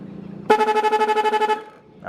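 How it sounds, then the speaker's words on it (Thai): A single electronic horn on an RC Toyota construction truck beeps for about a second, a buzzy, pulsing tone, with a faint whirring hum before it. "เราสามารถบีบแตรได้ดังไหม เรามาตรวจแตรอย่างเดียวครับวันนี้"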